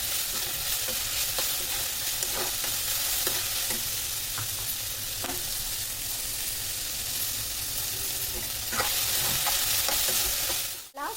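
Capsicum and cabbage are tossed and stir-fried in a hot pan, a loud, continuous sizzle with repeated scraping and tossing clatters throughout, ending in a sharp clunk.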